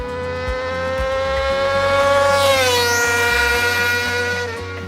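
A small motorcycle engine that revs to 18,000 RPM winds up with a high, shrill howl, its pitch climbing and then settling, loud and close with no talk.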